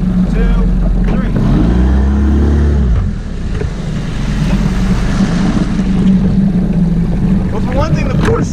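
Mercury 15 hp two-stroke and four-stroke outboard motors run, a loud steady low engine drone with a pitch shift partway through, heard outdoors by water with someone talking over it.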